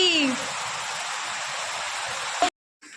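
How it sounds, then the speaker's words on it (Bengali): Heavy rain pours down as a steady, dense hiss that fills most of the moment. It stops abruptly, followed by a short silence, then resumes more faintly. A voice is briefly heard at the start. "বাবারে বাবা কি বৃষ্টি"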